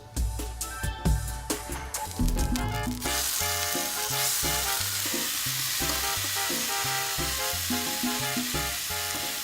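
Lamb frying in a buttered pan as the main ingredient, a continuous dense sizzle under a rhythmic music bed, with clanking pan or utensil hits early on.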